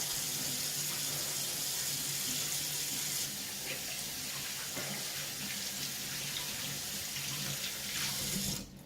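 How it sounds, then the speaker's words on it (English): Hands are washed under a running kitchen tap after searing a ribeye steak, with a steady loud stream of water splashing into the sink for several seconds before it is shut off at the end. "Hands are a mess. I gotta wash them up."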